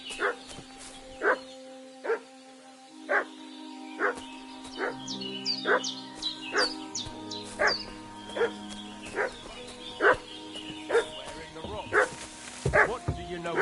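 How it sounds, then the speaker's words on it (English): Dog in the medieval game Kingdom Come Deliverance 2 barking repeatedly in a steady, insistent rhythm, about one bark per second, moderately near, with low sustained tones and a brief voice underneath. "What's that dog making such a fuss about?"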